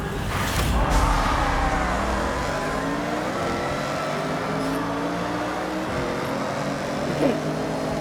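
A car engine in the video game Forza Horizon 6 rumbles steadily at close range, its pitch rising and falling in a few gentle revs, with a voice briefly heard over it.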